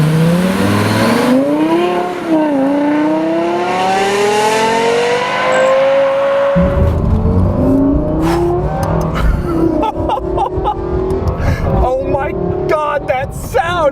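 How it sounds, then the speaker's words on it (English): A Lexus LFA supercar's engine revs and accelerates, its pitch climbing in smooth sweeps then breaking into rapid gear-change surges, loud and close, with people talking over parts of it. "That sound, it's like a Formula One car."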